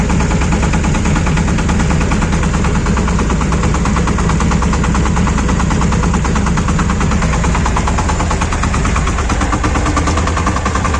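A Shifeng 240 mini tractor engine runs steadily and loudly for the whole stretch, a close, continuous rattling diesel chug with a dense low rumble and no breaks, while potatoes are sprayed using a homemade sprayer.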